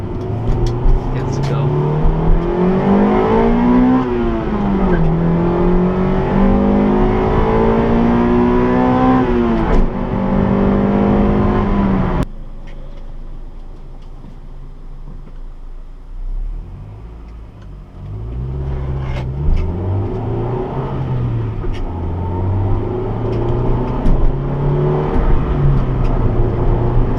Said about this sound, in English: let's go for a quick drive in my 2000 Acura Integra GSR